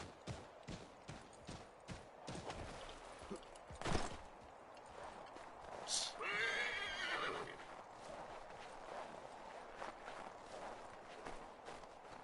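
A horse in the video game Assassin's Creed III clip-clops along with steady hoofbeats, then lets out a loud whinny midway while the hooves keep going around it.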